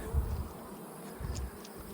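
Honey bees buzz around beehives in a faint, steady drone, with soft low thumps of outdoor noise underneath.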